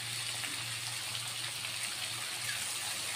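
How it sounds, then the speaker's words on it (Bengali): A small splash of water from a bowl goes into a pan of potato and stem curry with ground poppy seed, giving a steady soft hiss and watery wash without distinct drops. "বাটিতে লেগে থাকা অল্প জল দিয়ে দিচ্ছি"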